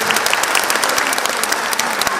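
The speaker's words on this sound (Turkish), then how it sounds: "Güçlü alkışlarımızla hafızlık merasimimiz devam edecek." An audience at a Quran memorization graduation ceremony claps loudly and steadily throughout, a dense unbroken wash of applause with no pauses.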